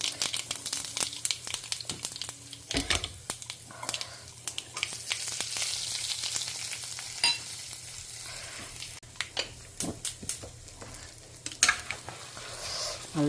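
Mustard and fenugreek seeds crackle and sizzle in hot oil in a home kitchen pan, with irregular sharp pops and a spoon scraping and stirring throughout, fairly close and without talk.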